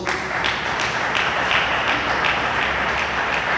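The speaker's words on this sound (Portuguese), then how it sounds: "dê uma salva de palmas para Jesus" A church congregation breaks into steady, dense applause, many hands clapping together at an even level throughout, fairly close and without speech on top.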